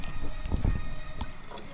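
Water runs in a steady, soft hissing stream as an alkaline water dispenser is filled, with no other sounds around it.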